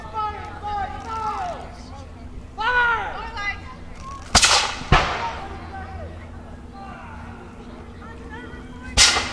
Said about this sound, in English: you can hear the engagement down the hill